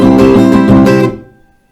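One round of a song strummed on an acoustic guitar with muted stops between strokes, a short burst of close, rhythmic chord strums that cuts off and dies away quickly, with no voices.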